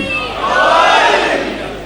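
A crowd at a Muharram majlis in an imambargah chants religious slogans, a loud massed shout that swells and then eases over about two seconds.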